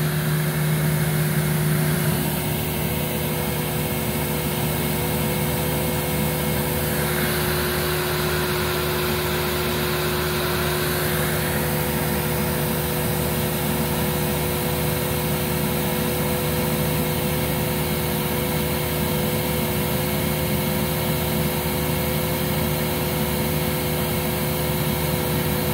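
A Simplicity 7350 upright vacuum cleaner runs continuously with its brush roll engaged, a loud steady motor whine and airflow roar holding at one level throughout.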